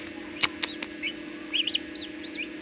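Newly hatched turkey chicks from an incubator give faint, high, rising peeps in short bursts, with a few sharp taps near the start over a low steady machine hum.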